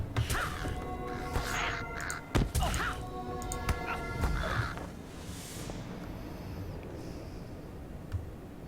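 Crows cawing in an online fantasy video game, several harsh calls repeating over the first five seconds over a steady game background hum, with a few thuds, then fading out.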